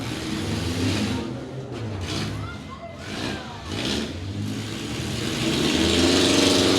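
Stock cars race around a county fair track, their engines droning and rising together in a steady loud roar that swells toward the end, with a commentator talking over the noise.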